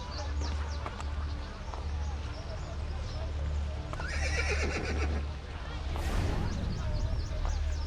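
A horse whinnies in Assassin's Creed: Brotherhood partway through over a steady low hum, with hoof clatter and game-like effects around it.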